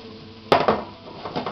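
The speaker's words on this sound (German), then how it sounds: "Immer wieder in der Pfanne schwenken," A few quick clattering knocks of food and a pan being tossed, a sharp first rattle followed by softer scraping shakes.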